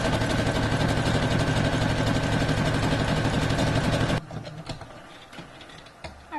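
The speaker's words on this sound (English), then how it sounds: "we're just going to be doing a zigzag stitch right on the edge" Sewing machine running a zigzag stitch along the edge of a fabric bag, a steady, close mechanical whir with rapid needle rhythm for about four seconds before stopping, leaving faint handling noises.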